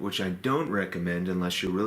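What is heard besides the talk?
None of the usual background noises is heard.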